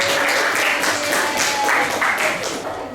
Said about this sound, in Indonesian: Beri aplaus untuk kelompok saya.